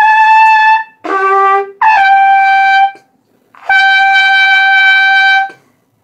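A brass instrument is played with a rolled-in embouchure and no tongue arch, giving several held, forced, strained-sounding notes separated by short gaps, close and alone.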